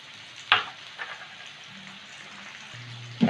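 Kohlrabi frying in a pan with turmeric and salt gives a soft steady sizzle, close and fairly quiet, with a few sharper spatters and clinks of stirring.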